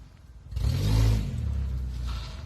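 A Nissan 240SX drift car rolling backwards on a street, its engine swelling to a loud rumbling rev and then holding a steady, droning note.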